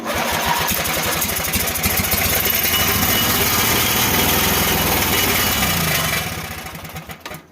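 A Lawn Boy mower engine fires up on starter fluid and runs loud and close with a fast, rough putter for about six seconds before fading and dying out.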